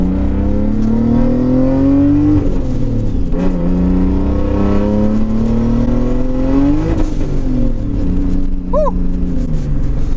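Nissan 240SX on a road, engine droning loudly with pitch climbing and dropping as the car breaks traction and slides sideways, close and continuous, with a brief squeal near the end.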